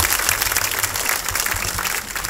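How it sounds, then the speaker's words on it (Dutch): Dense, loud audience applause at a municipal sports award ceremony, sustained clapping from a large crowd filling the short stretch without pause or speech. "Dames en heren, ook een applaus voor Twan Wagenaar"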